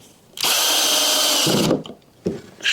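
A power drill drives pocket screws into wood: one loud, close whirring run of just over a second that drops in pitch as the screw bites, then two short bursts after a pause.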